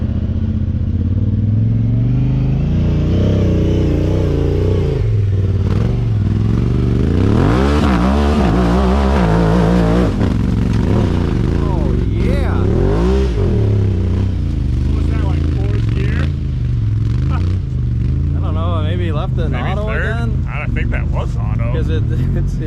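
A Talon side-by-side UTV engine revs and roars through a hill climb, rising and falling loudly and continuously while people talk over it.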